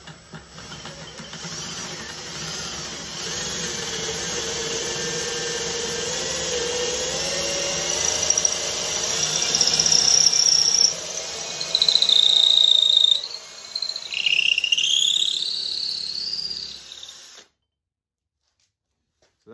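A power drill bores through wooden boards, one hole with a pilot hole and one without. A loud, continuous whine shifts in pitch as the bit works through the wood, then cuts off abruptly near the end.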